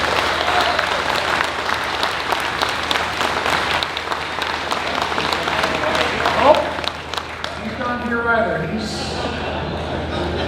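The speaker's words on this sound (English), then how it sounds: "So please, big round of applause for Jeff" A crowd at a motocross museum event applauds former BSA factory rider Jeff Smith, a long dense burst of clapping that gradually thins toward the end as talk and a voice over a speaker take over.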